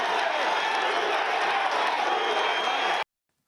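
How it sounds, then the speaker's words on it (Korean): Supporters at a Trump rally cheering and applauding, a dense, loud roar of crowd clapping and shouting for three seconds before cutting off abruptly. "지지자들은 환호했습니다."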